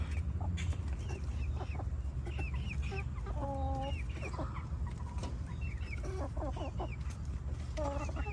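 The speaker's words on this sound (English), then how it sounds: "I figured out I have 4 roosters in here, you guys." Several chickens including roosters cluck and call in a backyard garden coop, bursts of squawks and clucks coming repeatedly from near and mid distance over a steady low background rumble.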